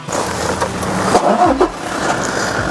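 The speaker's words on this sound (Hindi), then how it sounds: "मैं कार ऑन करके आपको दिखा देता हूँ" A Toyota Fortuner 4x4 engine turns over and catches, a brief starter burst settling into a steady close idle hum with no talking.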